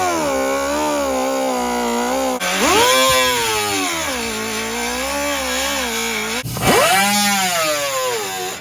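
A power tool cuts through a truck's plastic wheel well liner while trimming to make room for 35-inch tires; a loud, sustained whine rises and falls in pitch as the blade bites, heard up close with no talk.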